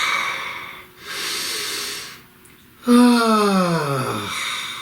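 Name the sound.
deep breath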